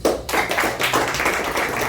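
An indoor audience at a health seminar clapping together, a dense burst of applause that carries on steadily for a couple of seconds.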